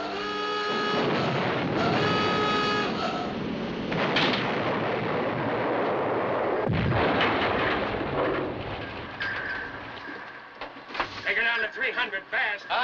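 Gunfire and explosive blasts in a 1958 submarine war film as the bridge is fired on before a dive, loud booming bursts mixed with shouted orders and dense battle noise, fading toward the end.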